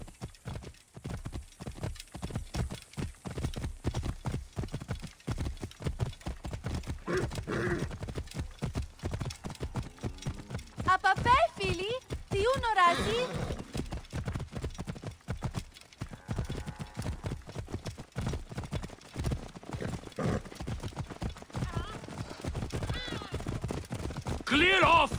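Horses gallop hard in a race in the video game Assassin's Creed Origins, a dense, rapid drumming of hooves running throughout, close and loud, with voices shouting intermittently over the pounding.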